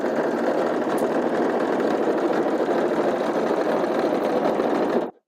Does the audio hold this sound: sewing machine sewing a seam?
yes